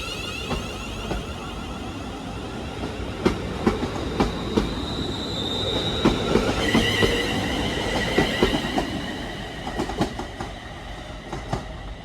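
A train on England's Abbey Line rolls into Park Street station with a steady rumble, rhythmic wheel clacks and high brake squeals as it slows.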